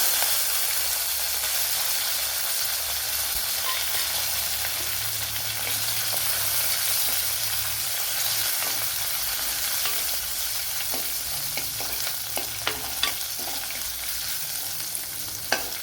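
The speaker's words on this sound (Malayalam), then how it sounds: "ഇനി ഇതൊന്ന് നല്ലതുപോലെ ഒന്ന് വഴണ്ടു വരണം." Mustard seeds, crushed ginger, crushed garlic and a green chilli sizzle in hot oil for a soya chunks curry, a steady close frying hiss with occasional sharper pops and crackles near the end, with no voices.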